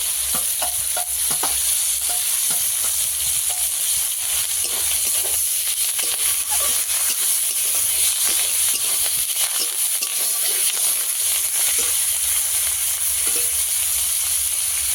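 Raw tomatoes fry in a pan for a village-style curry of live pond-caught bele fish, with a steady loud sizzle and repeated scraping stirs throughout.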